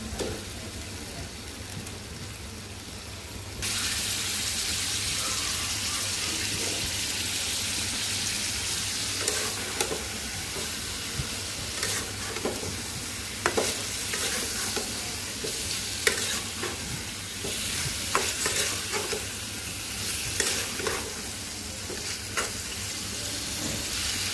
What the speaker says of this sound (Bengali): এখন মাংসগুলো দিয়ে ভালো করে কষাবো।